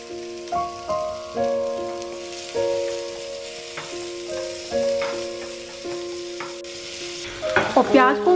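Chopped onion sautéed in a pan makes a soft sizzle with stirring scrapes, heard under tonal background music that sustains throughout, with a burst of louder clatter near the end.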